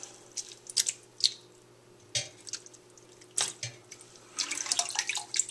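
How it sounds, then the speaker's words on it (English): Cold running water rinses cooked ramen noodles in a cold water bath in a kitchen, with soft splashing, dripping and trickling that comes and goes in short bursts and grows busier toward the end, fairly quiet and close. "This is a cold water bath."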